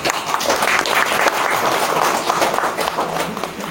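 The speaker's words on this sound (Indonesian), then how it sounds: "Tepuk tangan dulu." A crowd claps steadily and densely throughout, a continuous wash of applause with no pauses.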